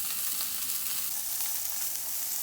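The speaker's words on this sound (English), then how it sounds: "now I already oiled up the Blackstone, and we're going to get that steak on there" A steak sizzles loudly on an oiled Blackstone griddle at a creekside campsite, a continuous crackling hiss heard up close and alone.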